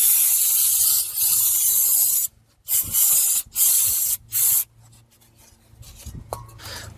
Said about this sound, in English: And then we'll take a little brake clean.